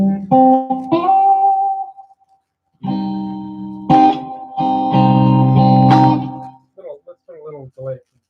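A song on an Epiphone electric guitar with reverb: ringing chords and single notes in uneven bursts with short gaps that trail off into lingering tails, and a voice briefly talking near the end.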